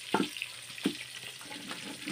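Onions frying in a pan, stirred now and then, giving a faint, soft sizzle broken by a few brief scraping strokes, with no talking.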